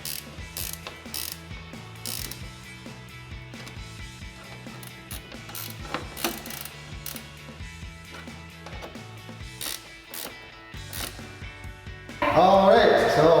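Ratchet with an 8mm socket tightening mud guard bolts on a 2019-2025 RAM 1500 truck, close rapid pawl clicking in repeated short runs under a voice, ending in a louder burst of noise.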